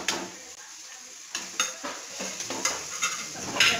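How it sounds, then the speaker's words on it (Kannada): Tomato with garam masala, coriander powder and turmeric frying in oil in a pan for a radish and egg dish, a soft steady sizzle broken by scraping stirs and light clinks of a utensil against the pan, close and without talk. "ಚೆನ್ನಾಗಿ ಎಣ್ಣೆಯಲ್ಲಿ ಹುರ್ಕೊಳ್ಬೇಕು."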